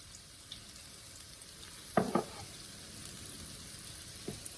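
Seasoned potatoes frying in a skillet give a faint, steady sizzle, broken around the middle by a couple of sharp stirring scrapes and a soft clink near the end.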